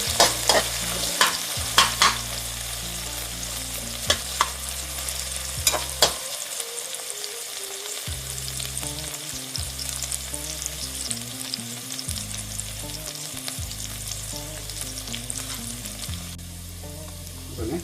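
Whole spices sizzling in hot oil for an Arabian chicken maklouba, a continuous close frying crackle broken by sharp stirring clatters, with a low background hum that drops out briefly.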